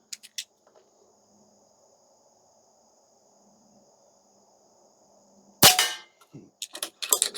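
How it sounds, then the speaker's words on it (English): A Stoeger XM1 Scout airgun fires once at a 25-yard target, a sharp close crack followed by a few quick clicks and knocks, after a long quiet stretch with faint insects and a steady whine. "let's go ahead and shoot at 25 here"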